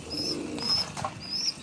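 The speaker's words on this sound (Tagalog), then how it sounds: "Tapos itong ibon natin sa ilalim na si Katarman" Pigeons coo inside a loft, several soft, repeated calls close by against quiet background rustle, with no one speaking.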